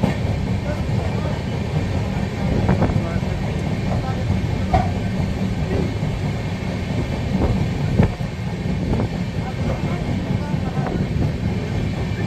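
Inside a crowded Howrah–Jodhpur Express coach while running, a loud steady rumble of the train with rhythmic wheel clicks and occasional jolts, faint voices in the background.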